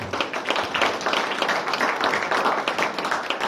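Audience at a dog graduation ceremony gives a round of applause: dense, even clapping from many hands, moderately loud and sustained, with no speech on top.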